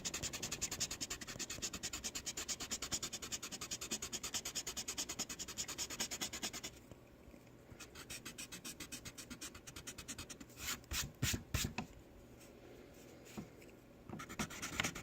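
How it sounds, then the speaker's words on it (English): Pencil lines of a church drawing being erased on paper, a steady rapid back-and-forth rubbing for several seconds, then lighter, more broken scrubbing strokes with short pauses, close and alone. "I'm going to have to erase this whole church thing."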